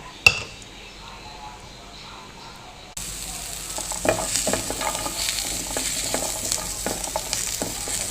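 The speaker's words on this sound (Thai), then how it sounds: "คั่วไปสักพักนะคะ ให้ มันสุกนะคะ สุกเป็นสีเข้มเลย" Fermented fish (pla ra) dry-roasting in a pan: a quiet opening with a single clink, then a steady sizzle with scraping stirs and light utensil taps against the pan.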